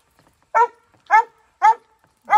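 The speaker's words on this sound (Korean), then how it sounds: "너무 짖는다." A dog barks outdoors on a rainy autumn morning, four sharp, loud barks evenly spaced about half a second apart, alone against a quiet background.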